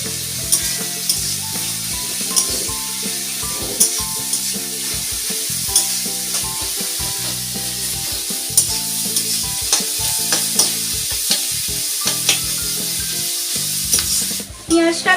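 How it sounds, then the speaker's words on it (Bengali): Onions fry in a wok with a sprinkle of salt, sizzling loudly and steadily up close while a spatula scrapes and stirs in a regular rhythm, with no voices. "পেঁয়াজটা লাল লাল করে ভাজা হয়ে এসেছে"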